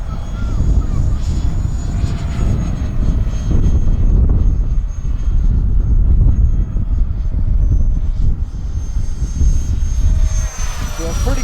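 An FF-Viper-50 RC model plane flies in gusty high wind, its steady whining motor loud and continuous over heavy wind buffeting against the microphone.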